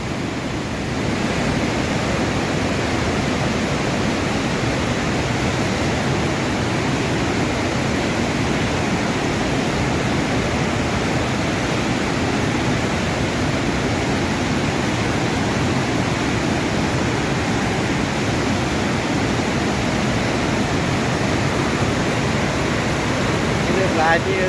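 Li Phi waterfall in the rainy season, a heavy, constant roar of rushing water filling the whole scene, loud and unbroken with no clear talk over it.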